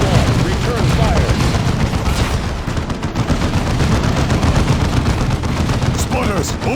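Rapid gunfire and machine-gun bursts from a Warhammer 40K Dawn of War II battle, loud and continuous with booming blasts mixed in, while voiced unit callouts sound over the fighting.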